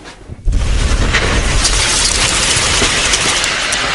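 A remotely triggered bomb goes off after a brief quiet, releasing a loud, broad blast that rolls into sustained rumbling debris noise heard from a distance.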